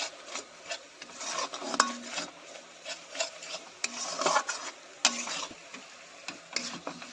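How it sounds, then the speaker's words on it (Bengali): A spatula scrapes and rubs through spice paste loosened with water in a pan for a potato and patol curry, giving soft, irregular rasping strokes with occasional sharper clicks, close and fairly quiet. "আর একটু আমি জল দিয়ে নাড়ি"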